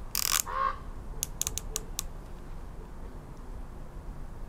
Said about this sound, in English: So let's take a listen to these turrets.